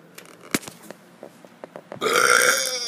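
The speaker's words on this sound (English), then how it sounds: "This place is a perfect place to do my burping." A series of small clicks and gulps leads into one long, loud, rumbling burp that carries through to the end, up close with no talk.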